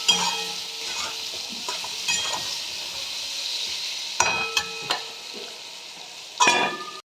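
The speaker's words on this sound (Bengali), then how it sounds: "একটু লাল করে ভেজে নিলাম।" Eggplant pieces seasoned with salt and turmeric frying in hot oil, a continuous close sizzle with bright crackle, interrupted by a few louder stirring scrapes and spatters near the end.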